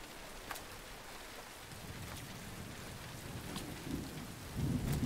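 Steady rain hisses in the Road 96 video game while low thunder rumbles build and swell toward the end, loud and close with no one speaking.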